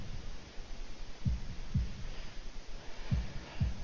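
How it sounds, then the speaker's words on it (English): A game's heartbeat sound effect gives low, muffled thumps in paired beats, two doubles spaced about a second and a half apart over a steady low hum, with no talking. "holding my breath in an attempt to hear my heartbeat"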